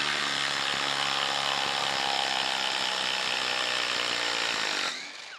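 A Ryobi PBLID02 cordless impact driver runs under load through an adapter with a loud, sustained whining buzz and steady tonal hum, then cuts out abruptly near the end, with no talking.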